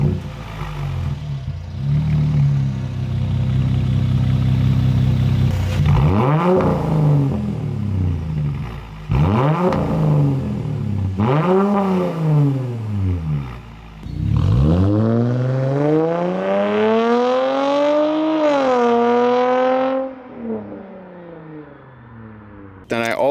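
A Mercedes engine with straight pipe exhaust revs hard several times, each rev sweeping up and falling back, then a long sustained high rev before easing off; raspy, loud exhaust.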